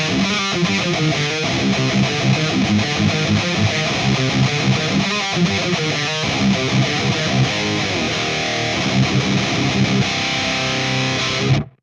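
A high-gain electric guitar riff plays through a Valeton GP-5 EV1 riff preset, dense distorted chugging and chords, loud and continuous until an abrupt stop.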